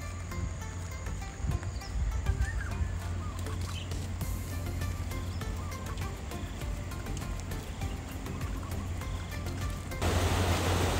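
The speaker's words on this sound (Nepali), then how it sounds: "झरना हो गाइज यो झरना" Water rushing steadily at a waterfall in Malaysia gives a constant broadband roar that runs unbroken throughout, with faint bird calls above it.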